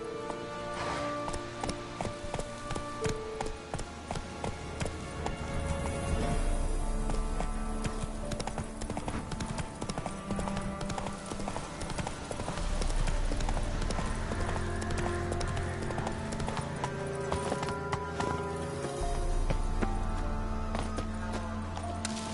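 Hooves of Geralt's horse Roach clip-clop steadily across the ground in The Witcher video game, a continuous trotting rhythm under a layered orchestral and ambient game score, with a brief snort near the start.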